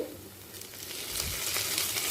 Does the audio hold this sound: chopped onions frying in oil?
yes